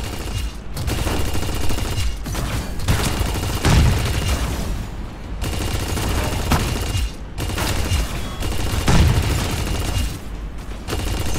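Repeated bursts of rapid gunfire and heavy booms in the mech battle-royale video game Super Mecha Champions, several loud volleys separated by short gaps.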